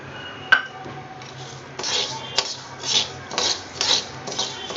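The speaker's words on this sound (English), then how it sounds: "The minute you start roasting the dal" Dry urad dal being stirred and roasted in a pan, with repeated scraping and rubbing strokes of a spoon against the metal, close and fairly loud, in an irregular rhythm.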